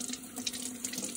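Tap water runs steadily into a kitchen sink as grape leaves are rinsed, a close, soft continuous splashing with no voices.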